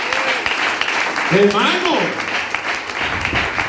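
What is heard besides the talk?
applause from church congregation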